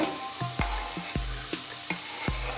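Diced pickled jalapeño peppers sizzle in a hot frying pan for chili con carne, with a steady fry hiss and a regular series of sharp clicks and scrapes as they are stirred.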